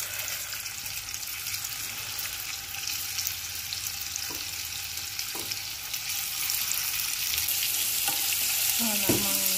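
Fish balls made from blended hake and mixed ingredients fry in a little oil in a pan, giving a steady broadband sizzle with a few brief scrapes and a rising crackle near the end, with no talking.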